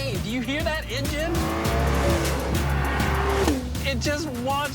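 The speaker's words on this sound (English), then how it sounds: "Do you hear that engine?" A powerful car engine roars and revs up and down loudly and close by, with a rising whine and brief tire squeal.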